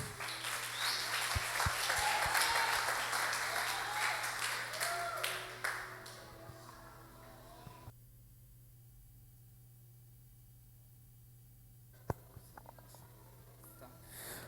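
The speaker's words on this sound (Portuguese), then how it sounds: "Aplauda Jesus" A church congregation applauds loudly for several seconds at a worship service, the clapping thinning out and fading to near silence, then a few isolated taps near the end.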